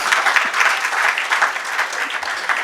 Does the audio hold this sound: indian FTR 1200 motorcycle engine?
no